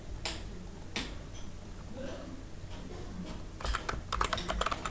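Typing on a computer keyboard: a few isolated key taps early on, then a quicker cluster of keystrokes near the end, heard close over steady low room noise.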